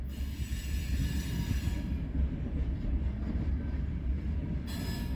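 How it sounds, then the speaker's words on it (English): A southbound BNSF freight train rolls through Hobson Yard in Lincoln, Nebraska, with a loud, continuous low rumble of wheels and cars and a steady hiss, heard alone without talk. "our southbound going down to St. Joe sub is coming"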